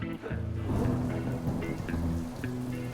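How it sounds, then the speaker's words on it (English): Steady rain falls through a stormy afternoon in Agrigento, Sicily, a dense, continuous hiss with scattered drops. Voices and a low humming tone run underneath. "As you can see here in Agrigento, it's turned into a little bit of a rainy afternoon."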